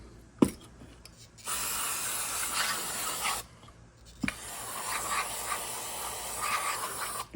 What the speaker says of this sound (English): Spray inside this cavity.